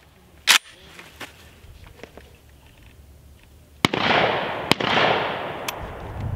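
Gunfire rings out at an outdoor shooting range, with a few sharp, loud reports spaced seconds apart, the later ones trailing into a long rumbling echo.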